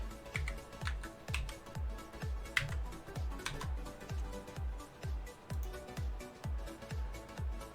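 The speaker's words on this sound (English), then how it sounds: "I don't know if you can hear my keyboard, but this is the pace of my typing now." Steady typing on a computer keyboard, a close run of soft key clicks and thumps in a regular rhythm with brief pauses, heard alone and moderately quiet.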